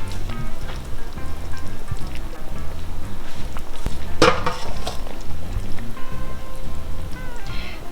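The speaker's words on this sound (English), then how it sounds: "So now I'm gonna add some shrimp in here." Shrimp tipped into a simmering pot of jambalaya make a brief splash and clatter midway through a steady, noisy bubbling sizzle; no one talks.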